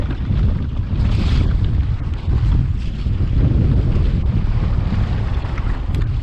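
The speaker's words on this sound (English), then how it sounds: "It's windy." Strong wind on a quarry mountain bike trail in Lancashire buffets the microphone in loud, low roaring gusts, continuous and close, with no voices.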